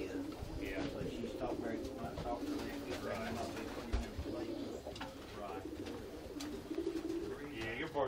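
Pigeons coo softly and steadily in a pigeon loft under a continuous murmur of nearby conversation. Low, rounded calls repeat throughout over a light ambient background.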